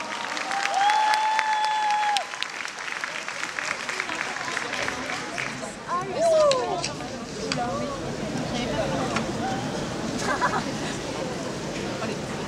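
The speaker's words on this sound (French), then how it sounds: "On les applaudit très fort." Audience at a cosplay event applauds a Ragnarok Online costume group, clapping mixed with cheers, whistles and crowd chatter, while a voice speaks over it.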